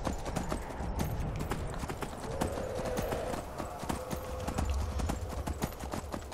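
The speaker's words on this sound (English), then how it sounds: "Now ride, my horse." Steady clip-clop of horse hooves at a trotting pace in Skyrim Special Edition, continuous and fairly close, with a soft background rumble.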